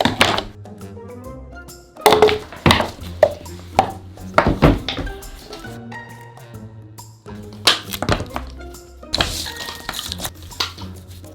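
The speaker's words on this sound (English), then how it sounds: "So I'm just flattening off the Starbucks cup now." An emptied Starbucks iced eggnog latte plastic cup is pressed flat on a hard surface, giving irregular crinkles, knocks and clinking thuds that come in bursts with short quiet gaps, close and fairly loud.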